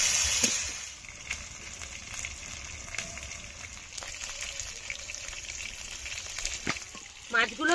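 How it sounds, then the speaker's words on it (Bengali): Ritha fish sizzle and spit in hot oil in a pan, a steady moderate crackle with scattered pops and a louder burst of spattering near the end. "মাছগুলো ভাজা হয়ে গেছে"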